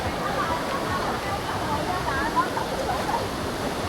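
Hòa Bình waterfall in Đồng Nai, Vietnam, gives a steady, broad rush of falling water, continuous and enveloping with a faint murmur of distant voices beneath it.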